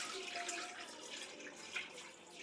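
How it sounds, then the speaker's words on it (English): Water pours steadily into a cooking pot of oxtail, a close, continuous splashing rush of moderate loudness with no voices over it. "Going with some water."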